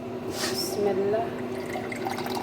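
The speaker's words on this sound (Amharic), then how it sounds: "ደግሞ ውሃ ልጨምርበት ነው።" Water is poured into a freshly ground mixture, giving a soft, steady liquid trickle beneath ongoing talk.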